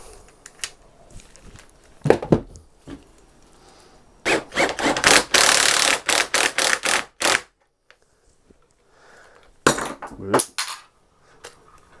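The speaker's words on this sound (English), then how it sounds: "Try and put the screws in with a little right angle tool." Screws driven into wood with a small right-angle driver from a budget tool set: bursts of gritty whirring and scraping, with a long loud run in the middle and shorter bursts near the end, between quiet pauses.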